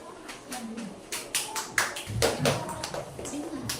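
Several people clap their hands in an uneven series of sharp claps, in a primary school classroom, with voices heard among them.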